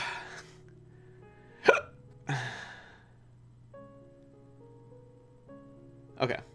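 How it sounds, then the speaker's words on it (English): Someone has the hiccups: three sharp, sudden hiccups spaced a few seconds apart, close and fairly loud, over soft game music. "Oh no, I have the hiccups."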